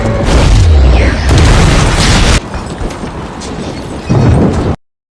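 A loud booming blast as a flour trap in an old bakery is set off by a stun grenade in a movie scene, with rumbling debris and a second burst near the end before it cuts to silence.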